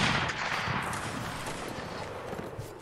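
Rifle volley in an online line-battle video game, a dense rolling crackle of many overlapping shots fading slightly over a few seconds, loud and close with no talking.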